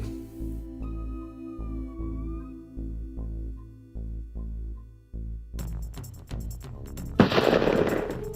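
Gunfire in the 1991 PC adventure game Police Quest 3, a burst of sharp synthesized shots near the end breaking over looping electronic game music.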